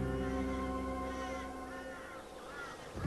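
Crows caw near a wedge-tailed eagle's kill along the Dingo Fence in the Australian outback, harsh drawn-out calls overlapping close by, fading slightly toward the end.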